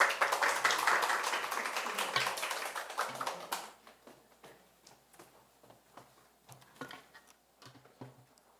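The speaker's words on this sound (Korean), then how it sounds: "박수 부탁드립니다." A conference audience gives a burst of dense applause that fades after a few seconds into a scattering of isolated claps and taps.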